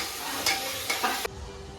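Masala for chowmein fries in a pan and is stirred, giving a short burst of sizzling with a few scraping strokes before the frying drops to a quieter hiss.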